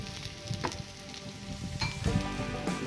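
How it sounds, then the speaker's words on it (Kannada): Capsicum frying in a pan for paneer lemon pepper fry, a quiet sizzle with soft crackles and a few spatula clicks and stirs, near but faint, with no talking. "ಈಗ ಕ್ಯಾಪ್ಸಿಕಮ್ ಫ್ರೈ ಆಗಿದೆ."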